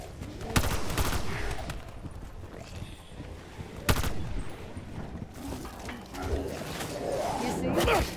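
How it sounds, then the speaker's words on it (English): Gunfire rattles through a Call of Duty: Black Ops 4 fight, with sharp shots and bursts of automatic fire in irregular clusters, several loud cracks standing out, while a voice talks over the action. "Where did she learn to shoot like that?"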